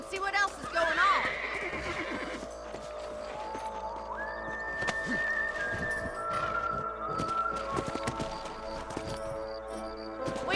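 Horses whinny and neigh in the Western video game Red Dead Redemption, loud and close, with clip-clop hooves and game dialogue or voices running underneath.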